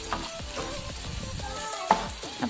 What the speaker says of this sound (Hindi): अब थोड़ा सा इसको फ्राई करूँगी प्याज को